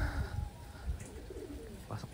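Racing pigeons coo softly at the loft on arrival after a 411 km race from Plaridel, Bulacan, flown through Typhoon Marce. Low, muffled coos come in short repeated bursts close by, with faint voices and rustling in the background.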